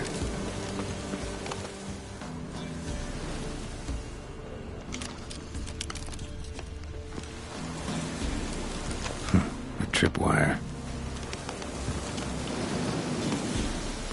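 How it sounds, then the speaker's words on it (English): Steady rain falls throughout a Witcher 3 game scene, with a low rumble of thunder and a couple of sharp transient cracks around the middle; faint voices may sit under the downpour. "Looks like rain."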